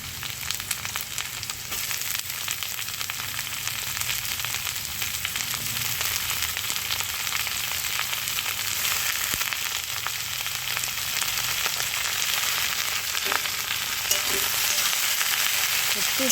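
Chopped white watermelon rind fries in a pan with a steady, even sizzle that runs unbroken throughout, plus a few faint clinks of stirring; no one speaks.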